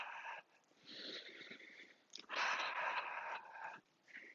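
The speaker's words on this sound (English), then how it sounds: "Breathing in through the nose and out through the mouth" Slow, deliberate breaths drawn in through the nose and let out through the mouth during a guided breathwork session, airy and soft with a faint wheezy edge, a few long inhales and exhales at close range.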